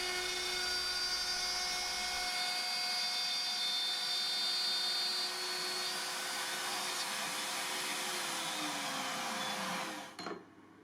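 Woodworking router cutting slots and a bearing recess in wood for a router circle-cutting jig, a loud steady high-pitched whine with a sustained cutting roar that runs continuously for about ten seconds before the motor cuts off and spins down.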